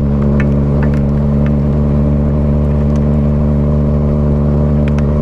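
Motorcycle riding through heavy rain, a loud steady engine drone with wind and rumble filling the sound throughout, no voices over it.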